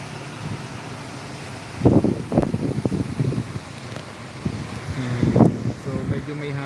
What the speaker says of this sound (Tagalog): So medyo may hangin na siya guys.